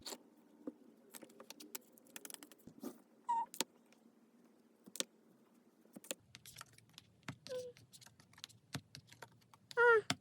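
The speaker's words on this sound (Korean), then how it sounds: "추가 카드를 뽑아볼게요" Tarot cards being drawn and handled on a table: scattered soft clicks, taps and light shuffling rustles, close and quiet, with a few sharper knocks and brief squeaky sounds in between.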